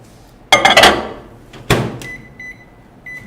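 A microwave oven melting 70% dark chocolate: the door bangs open and shut and buttons clatter, then a thin electronic tone beeps several times in a short run nearby.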